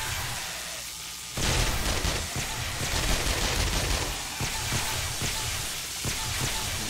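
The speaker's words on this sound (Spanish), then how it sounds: "empiezan las explosiones, señores" Explosions from a demolisher zombie attack during a blood-moon night in 7 Days to Die: a sudden loud blast followed by sustained crackling, rumbling destruction and debris, with several further heavy thumps.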